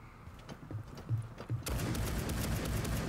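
Loud gunfire bursts in Rainbow Six Siege, scattered shots at first, then a dense, sustained volley from about midway that stays loud and near to the end, with no talk over it.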